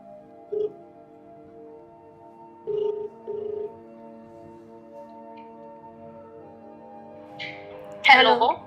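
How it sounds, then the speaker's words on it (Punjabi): A mobile phone call connecting, with a faint, steady tone broken by a few short ringing pulses, then a voice bursts in near the end. "ਸੰਦੀਪ ਇੱਥੇ ਮੇਰਾ ਫੋਨ ਪਿਆ ਈ ਫੜਾਈ ਮੈਂ ਕਰਾਂ ਗੱਲ"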